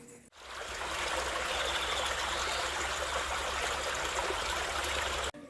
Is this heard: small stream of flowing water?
yes